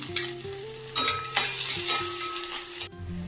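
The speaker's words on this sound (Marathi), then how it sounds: "हा लसूण तो थोडासा फ्राय करून घ्यायचा आपल्याला या फोडणीमध्ये" Loud, crackling sizzle of garlic and asafoetida frying in hot oil with a few clinks of a spoon stirring, cutting off abruptly near the end.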